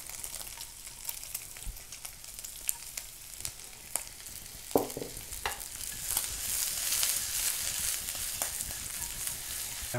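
Chopped onion going into bacon already frying in a pan, a soft crackle of scattered pops and spatters, with one brief louder clatter midway and the frying growing denser toward the end, no talk.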